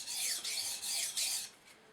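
Four quick, even rasping strokes of a steel Esee 3 knife blade drawn freehand across a sharpening stone, each a bright, close scrape, with no talk.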